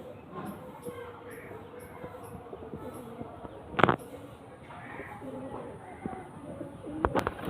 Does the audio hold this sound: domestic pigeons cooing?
yes